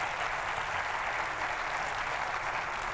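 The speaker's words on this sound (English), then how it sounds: "Let's give our girls a round of applause, our volleyball teams." An audience at a McAllen school district inspirational speaker event applauds its girls' volleyball teams, a dense, steady wash of clapping that holds evenly throughout.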